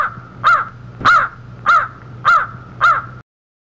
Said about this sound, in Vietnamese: Đây là con quạ.